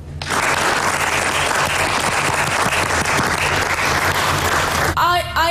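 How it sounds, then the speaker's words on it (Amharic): A group claps in steady, sustained applause for about five seconds at a dance gathering, and then a voice speaks. "አንድ ጊዜ ጭብጨባ እናደርግላት ሞራል እንዲሰማት"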